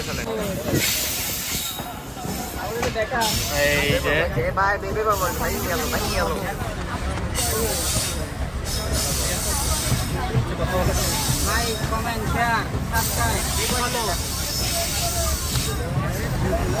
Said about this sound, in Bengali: এই দিক থেকে কিন্তু আরেকটা ট্রেন আসতেছে